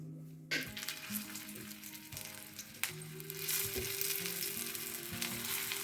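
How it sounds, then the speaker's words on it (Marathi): Potato and bread patties roast one by one on a flat iron griddle (tava). A soft, steady sizzle starts after a brief quiet moment and builds slightly, with faint music underneath. "ह्या पॅटीज मी एक एक करून तव्यावरती भाजून घेते"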